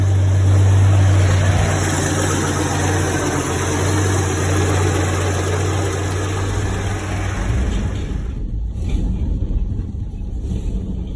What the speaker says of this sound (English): All right, fuel's down the carby. Should fire.